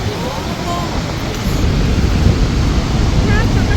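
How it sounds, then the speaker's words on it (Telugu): Niagara Falls on the Canadian side, a loud, continuous broadband roar of falling water mixed with wind buffeting the microphone. "సో ఈ ఫాల్స్ వచ్చేసి కెనడా సైడ్ నుంచి ఉండే, కెనడాకి సంబంధించిన ఫాల్స్."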